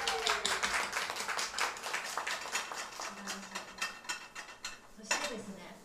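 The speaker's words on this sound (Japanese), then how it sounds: "ひーちゃんに拍手" Applause from an audience at a live acoustic concert by an all-female lineup, with a steady run of sharp handclaps that rises and falls, plus a brief sung or spoken tone partway through.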